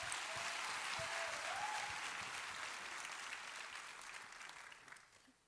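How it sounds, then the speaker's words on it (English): Audience applause at a church service, a dense, steady wash of clapping that holds loud through most of the stretch and then gradually fades toward the end, with no voices on top. "Can we give a round of applause?"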